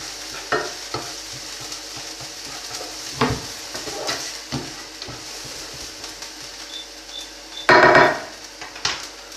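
Garlic and onions sizzle steadily in a pan over fairly high heat, with intermittent scraping and stirring clatter and one loud burst of metallic clanking near the end.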